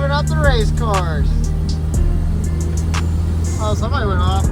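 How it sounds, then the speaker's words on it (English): Race cars on the Pikes Peak hillclimb course produce a steady engine drone with rising and falling whines, while people talk over it. "Benny's driving up the race cars."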